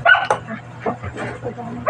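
Dogs barking nearby, several sharp yips and barks in quick irregular bursts with some whimpering between them.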